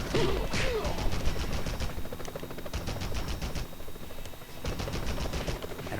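Rapid, continuous gunfire in the 2000 Spider-Man video game, a dense rattle of close shots that barely lets up, with no talk over it.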